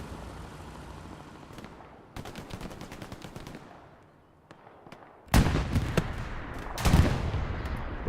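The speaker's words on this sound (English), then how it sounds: "Deto 88 gets gunned down by Audi." Machine gun fire in the World War II shooter Hell Let Loose, with scattered distant shots first, then loud, close bursts of rapid fire after a short lull, no voices.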